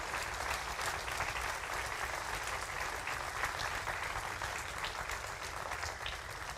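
Church congregation clapping for God during a Baptist service, a dense, steady wash of applause from many hands heard at a distance, continuing evenly throughout at moderate volume with no voices on top.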